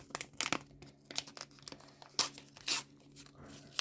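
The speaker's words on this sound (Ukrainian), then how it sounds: "давайте відкриємо ось цей пакетик, такий блакитний. Відкриваємо позаду" Close crinkling and a few sharp tearing rips as a blue paper packet is pulled open, in uneven bursts with quiet gaps between.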